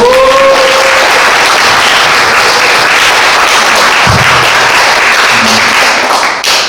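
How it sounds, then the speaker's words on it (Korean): Loud, dense applause from a lecture audience welcoming a professor at a public academic seminar, steady and sustained from start to finish, with a few faint voices underneath. "우리 조영호 교수님 박수로 환영하도록 하겠습니다"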